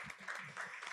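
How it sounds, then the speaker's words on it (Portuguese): Audience applause at an international seminar, a brief burst of steady clapping filling the room. "Vamos aqui aplaudir"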